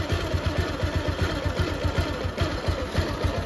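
A Bajaj Pulsar motorcycle engine runs at idle after a carburettor repair, a close, even, rapid thumping putter that stays steady and fairly loud with no talking.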